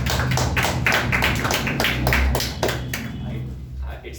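An audience in a hall claps for a contestant at a public speaking competition, a steady crowd of hands clapping in a quick patter that thins toward the end, with a voice talking over it.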